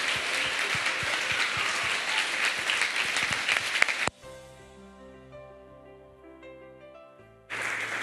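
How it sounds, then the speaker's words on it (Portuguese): Audience applause for graduates at a recovery-program graduation ceremony, dense steady clapping for about four seconds, then a sustained musical interlude, with the clapping swelling back in at the end. "aplaudir os formandos mais uma vez."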